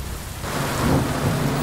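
Steady rain and rumbling thunder from a rally stage in the racing game DiRT Rally 2.0, a dense wash of rainfall swelling as a deep low roll builds, with no voices.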